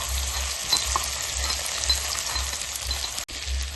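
Onion, garlic and chili paste fry in a pan with a steady close sizzle, joined by a soft rhythmic low scraping as the mixture is stirred, broken by one brief dropout near the end.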